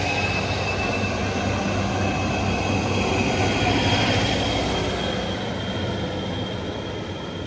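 A train departing from a station platform rumbles loudly and steadily nearby, wheels grinding on the rails with a thin metallic squeal riding over the constant roar.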